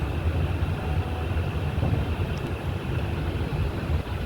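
Jan Shatabdi passenger train pulling away from Kochuveli station, a steady low rumble and hum heard from on board, even and continuous throughout with no voices.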